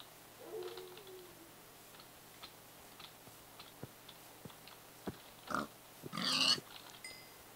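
Pigs oinking in the video game Minecraft: a few short, soft grunts scattered among light clicks and game sounds, with a louder cluster of squeals near the end. No one talks.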